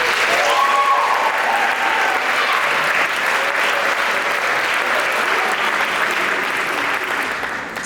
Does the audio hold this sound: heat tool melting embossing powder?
no